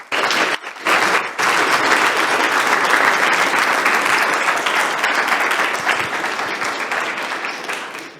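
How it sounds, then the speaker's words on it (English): At a science slam event, an audience breaks into strong, sustained applause for a speaker, with dense clapping that starts after a few scattered claps, holds steady and slowly thins toward the end. "So, big applause to him."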